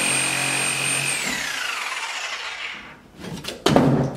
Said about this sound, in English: I'm going to be using this to cut out as large chunks of drywall as I can